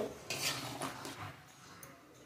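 A spoon stirring shukto, Bengali mixed vegetables simmering in milk and water in a pot, with a few soft scrapes and metallic clinks, quiet and close.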